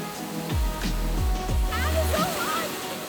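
Water sloshes and splashes in a hot geothermal river in New Zealand as someone wades in, a few close surging swishes over a steady running-water background, with voices talking alongside.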